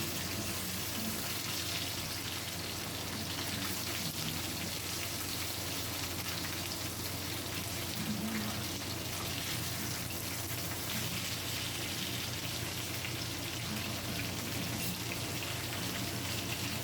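Catfish nuggets frying in a pan produce a dense, constant crackling sizzle that holds at an even level throughout, close and with no talk over it.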